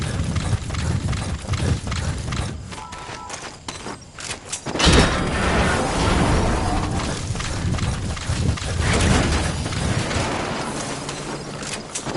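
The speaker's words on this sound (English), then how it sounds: "That explosion? There's smoke. The target's crashed his vehicle." A vehicle crash explosion in the video game Metal Gear Solid 5: a sharp, loud boom around the five-second mark within a dense, continuous mix of game effects and rumbling, with no speech.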